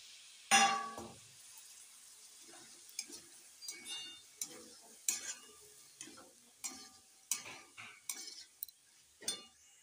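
Boiled chickpeas stirred into cooked spice masala for ghugni in a pan: a loud scrape at the start, then a steady run of soft spoon knocks and scrapes with a gentle sizzle underneath, no talking.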